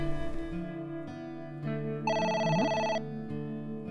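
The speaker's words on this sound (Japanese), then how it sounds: "電話だ。 出てみたらどうだ。" In the video game AI: The Somnium Files, a telephone rings as a game sound effect: repeated electronic trilling bursts mixed with tonal background music, fairly close and clear, with no speech.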